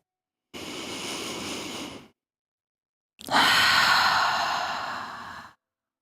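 Two slow, deep yoga breaths, a long inhale followed by a fuller, louder exhale, close and airy with a pause between them and no talking.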